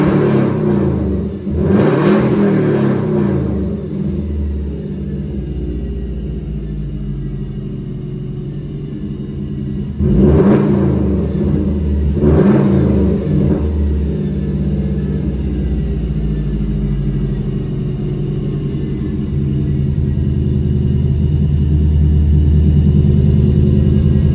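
A car engine revs as throttle is applied, a loud rumbling idle rising in two sharp swells of revving before settling back to a steady drone.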